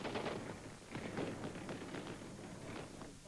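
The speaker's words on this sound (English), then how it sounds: "this time, the gunfire was in celebration" Celebratory gunfire in Kuwait City during a victory parade, with dense, continuous bursts of rapid shots from many guns at a distance, crackling steadily throughout.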